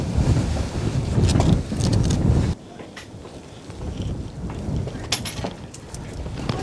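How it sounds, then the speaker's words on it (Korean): Strong gusts buffet the microphone at a clifftop Korean temple, with heavy roaring bursts that suddenly drop to a lighter rushing wind, and faint voices in the background. "바람 봐. 오, 진짜 세다."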